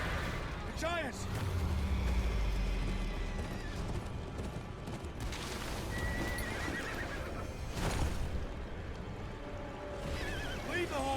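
Horses neigh loudly amid hoofbeats and clattering, with shouted voices and a busy, dramatic soundscape around them, in the video game Game of Thrones: Kingsroad.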